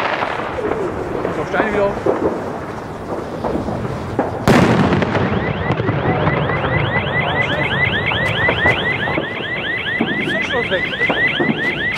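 A Polish firecracker goes off with one loud, sharp bang partway through, and right after it a car alarm starts wailing in repeating rising tones. People talk over the first part.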